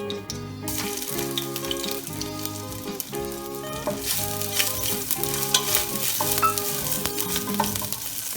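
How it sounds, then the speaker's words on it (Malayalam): Crushed ginger with cinnamon, cloves and cardamom frying in a pan, a continuous close sizzle and stirring heard under steady instrumental music. "1 ടേബിൾ സ്പൂൺ ഇഞ്ചി ചതച്ചത് ഇട്ട് കൊടുക്കാം."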